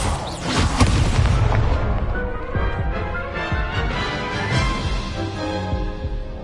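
A spell being cast in the Hogwarts Legacy video game: a loud, sustained booming blast with crackling, rumbling energy that stays strong for several seconds, with no talk.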